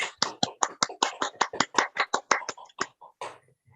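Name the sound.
round of applause at award ceremony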